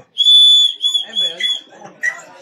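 A bird calls in a series of clear high whistled notes, one long sustained tone followed by shorter chirps and a final sharp note, close and loud against a quiet background.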